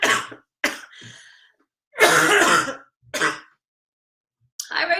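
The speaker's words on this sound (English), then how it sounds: "I can't talk for very long without getting into a coughing fit" A person coughing and clearing their throat in several harsh, separate bursts with short silences between them, close and loud, with no talking.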